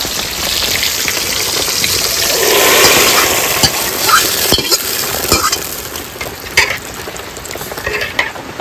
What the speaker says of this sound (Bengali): ফোড়নের জন্য তেল দিয়ে দেবো, ফোড়ন দিয়ে দেবো, তেজপাতা, শুকনো লঙ্কা, 5 ফোড়ন, কিছু টমেটো তেলে ফোড়নে দিয়ে দেবো।